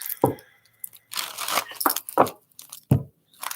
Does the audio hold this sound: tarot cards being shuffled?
yes